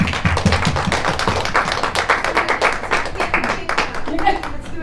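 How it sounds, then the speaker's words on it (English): Audience applause at a one-day business seminar in Jacksonville, a dense roomful of clapping hands that runs steadily for about five seconds before easing slightly at the end. "Please give her a round of applause."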